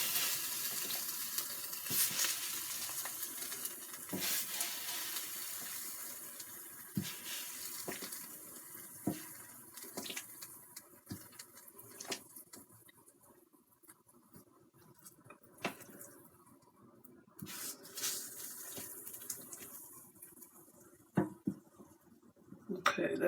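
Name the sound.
chicken wings sizzling in a Cosori air fryer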